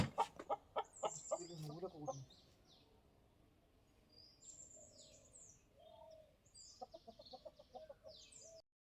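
Chickens cluck and chirp inside a coop in the morning, a cluster of loud, close clucks at the start followed by scattered fainter calls and high chirps, with no talking.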